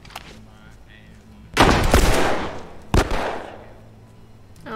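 Gunfire in The Last of Us: two loud booming shots a second apart, the first with a longer rumbling tail, close and dominant over a quiet game background.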